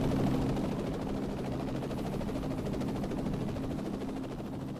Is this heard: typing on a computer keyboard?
no